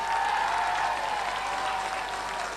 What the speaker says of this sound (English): One more round of applause, ladies and gentlemen, for Paul Claffey.